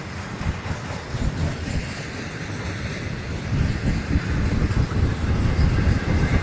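FEC freight train 105 rumbling past close by, a steady heavy roll with clattering wheels that builds slightly louder toward the end, with no voices.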